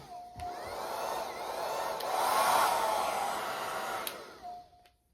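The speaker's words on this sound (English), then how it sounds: "I got my handy dandy blow dryer." A blow dryer blows with a steady rushing whir that swells in the middle, then it cuts off near the end.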